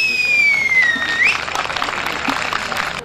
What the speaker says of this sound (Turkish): Alkışlarınızı kendisine hediye etmenizi istiyorum.